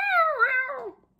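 A single cat yowl, a drawn-out wavering meow that rises and then sinks before cutting off, loud and close with nothing else around it.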